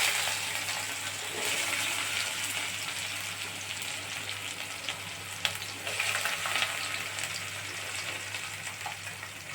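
Thinly sliced ivy gourd pieces fry in oil with mustard seeds and cumin, making a continuous close sizzle with light stirring and one sharp clink partway through.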